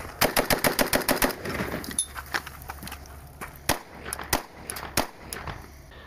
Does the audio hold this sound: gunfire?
yes